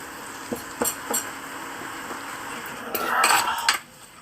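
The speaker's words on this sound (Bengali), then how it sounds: "এবার সুন্দর করে নেড়েচেড়ে একটু ভেজে নেব" Spiced drumstick mash mixture, seasoned with chili powder, is stirred and fried in a kadai. Several sharp metallic clinks of a spoon against the pan come at irregular intervals, followed by a brief burst of scraping and stirring near the end.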